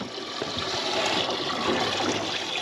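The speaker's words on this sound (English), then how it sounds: "All right, Willis, you get ready to cut the water off?" Water rushes steadily into a garden sprayer tank, a continuous hissing, splashing stream heard close up without voices.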